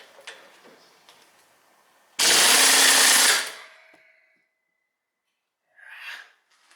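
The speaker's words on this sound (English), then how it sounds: "Impact wrench." An impact wrench on a car's sway bar end link during an Acura suspension repair, heard as a single loud, close burst lasting about a second, then near silence and a brief fainter sound afterward.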